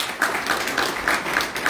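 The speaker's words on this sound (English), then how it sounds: "and a huge round of applause to" Brief clapping from a small gathering at a South African Telugu bhajan awards function, a few seconds of rhythmic hand claps close to the microphone.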